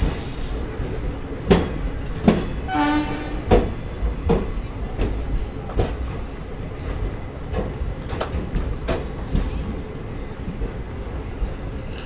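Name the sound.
Guruvayur Chennai Express train arriving at Chengalpattu station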